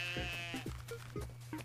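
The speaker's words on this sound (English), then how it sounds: "Hello, another sheep." Sheep in the video game Junk Jack bleat in a string of short, quavering calls over a steady low electronic hum, quiet and alone without talk.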